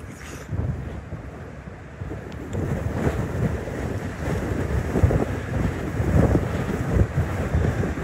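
Strong wind gusts across a lake while a boat sits on rough water, with heavy roaring buffeting on the microphone and waves chopping underneath, loud and continuous throughout.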